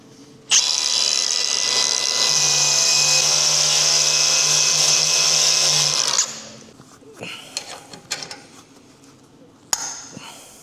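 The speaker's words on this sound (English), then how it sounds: "It's for taking rust off, but it's great for cleaning metal without grinding the metal." A power tool strips rust and paint from a metal windscreen cowling on a Willys MB jeep, a loud high whine running steadily for about six seconds, then stopping and leaving quieter clicks and handling noises.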